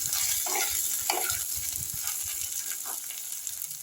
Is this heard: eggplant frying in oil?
yes